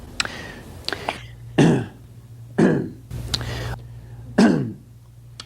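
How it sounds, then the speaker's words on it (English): Several separate coughs and throat-clearing bursts, about six in a row, come close and fairly loud, with soft lip smacks and breathy mouth noises between them over a low steady hum. "we got some lip smacks and some coughs coming up here"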